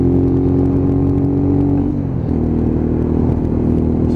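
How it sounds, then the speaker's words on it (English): A Lexmoto ZSX-F 125cc motorcycle with a loud exhaust drones steadily while being ridden, its engine tone dropping and shifting partway through, close and continuous with no talk. "nice loud exhaust."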